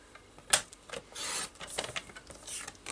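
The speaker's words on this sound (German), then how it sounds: "Da muss ich noch mal ein bisschen beischneiden." Black cardstock being trimmed to size for handmade card making, giving a few short scraping, rasping cuts with a sharp snap near the start, close and fairly quiet with no talking.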